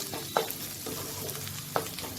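Spices and ginger-garlic paste sautéing in a pan for Bengali-style mutton kosha, a steady close sizzle with a couple of scraping stirs of a spatula, no voices.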